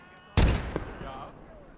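A grenade blast in the World War II strategy game Call to Arms Gates of Hell Ostfront, one sharp loud explosion followed by a fading rumble and a smaller secondary pop.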